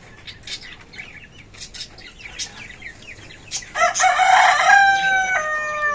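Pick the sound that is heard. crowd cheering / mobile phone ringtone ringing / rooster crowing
rooster crowing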